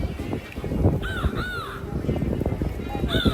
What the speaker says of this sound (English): I need some caw. Give me some caw in there.